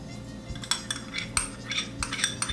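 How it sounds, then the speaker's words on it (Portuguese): A spoon dips into natural yogurt and taps against a bowl for a chicken salpicão: a few light clinks and scrapes close by over a low background hum, with no talking. "Vou adicionar aqui 3 colheres de iogurte natural"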